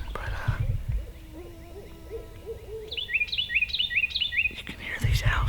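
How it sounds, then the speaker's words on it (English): Owls hoot repeatedly in rhythmic series, some lower and others higher, overlapping calls carrying through quiet outdoor air on South Florida public land, with faint breathy sounds nearby. "you can hear these owls going crazy"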